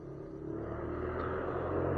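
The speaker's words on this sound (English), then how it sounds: "A lot of loud trucks or loud cars, loud bikes." Distant traffic of loud trucks, cars and motorbikes at night in the woods forms a steady low rumble that builds slightly over two seconds, with no voices.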